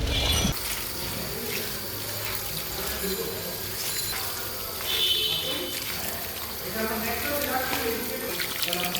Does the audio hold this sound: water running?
yes